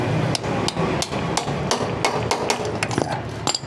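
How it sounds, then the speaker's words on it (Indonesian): A small hammer taps sharply and repeatedly in an irregular rhythm while a carburetor part is fitted on a Yamaha Mio scooter in a workshop, each close strike ringing over steady background noise. "Palu kecil."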